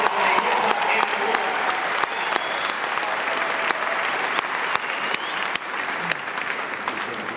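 A Hall of Fame induction audience claps and cheers steadily in a large hall, a dense wash of applause with scattered whoops that runs throughout.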